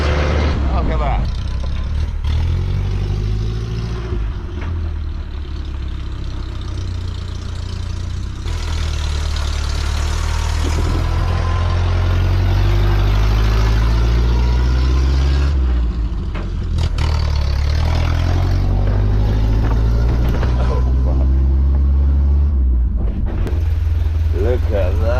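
Austin Ten car with a 2.3-litre side-valve engine running steadily, a low, even drone that carries under excited close-up talk throughout.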